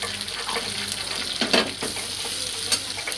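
Chopped garlic, ginger, onion and capsicum stir-fry in a hot pan, giving a close, steady sizzle broken by scraping stirs and a few sharper clinks of the spatula.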